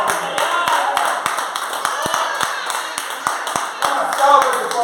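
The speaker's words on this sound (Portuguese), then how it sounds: "Uma linda salva de palmas." Church congregation claps along in a steady, rhythmic beat, sharp hand strikes repeating throughout under a murmur of voices and a warm room tone.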